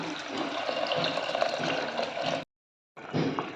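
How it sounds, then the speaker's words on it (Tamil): Dissolved tamarind water is poured into a pan of sautéed green chillies while making a tamarind chilli pickle, a steady close splashing pour that stops briefly and then resumes. "கரைச்சி வச்ச புளித்தண்ணியை ஊற்றிக்கலாம்"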